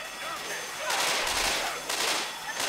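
Bursts of gunfire in the zombie video game Left 4 Dead 2 crackle in two loud rapid volleys, separated by a short quieter moment, with background game noise around them.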